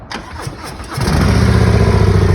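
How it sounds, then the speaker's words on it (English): A motorcycle engine cranks briefly, then catches and settles into a steady, fairly subdued idle with a low, even exhaust note, an aftermarket exhaust in quiet mode, quieter than stock. "When you start up the motorcycle, it's actually quieter than stock."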